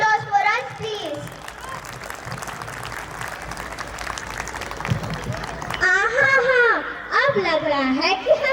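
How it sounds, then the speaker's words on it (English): Audience applause fills a school annual day function, a steady broad wash of clapping from a crowd with children's voices and cheers scattered through, while people talk over it near the start and end. "a big round of applause for us, please"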